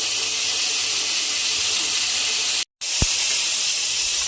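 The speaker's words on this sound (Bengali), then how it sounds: "আলুগুলো এবার আমি এই তেলের মধ্যে দিয়ে দিলাম" Potatoes dropped into hot oil for a Bengali fish curry give a loud, steady steaming hiss and sizzle that fills the whole stretch, cut by a brief silent gap and a single clink after it.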